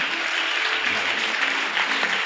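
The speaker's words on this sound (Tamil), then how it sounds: "அட்லீஸ்ட் கரத்தையா தட்டுறீங்களே" A church congregation claps steadily at a morning service. The applause is dense and continuous, close and fairly loud throughout, with no talk over it.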